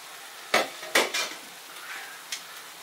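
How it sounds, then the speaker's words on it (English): A utensil clanks against the pan a few times while a courgette and sweet pepper stir fry is stirred. Faint frying sizzles underneath, with quiet gaps between the knocks. "just continue to stir and fry that, because I don't want the vegetables to lose too much texture"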